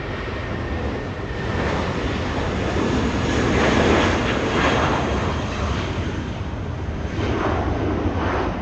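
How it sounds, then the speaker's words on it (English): A Volaris Airbus A320 departing Los Angeles International Airport for Guadalajara: a loud, continuous jet engine roar that builds toward the middle and holds steady, with no talking. "Jesus flying to Guadalajara. Volaris 913. It's an A320."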